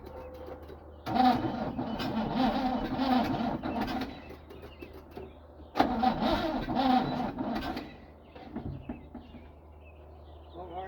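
A 1972 Chevrolet C10 4x4 truck's engine, revived after 35 years, cranks slowly in two bursts and briefly catches, with a quiet idle-like hum between and after the tries.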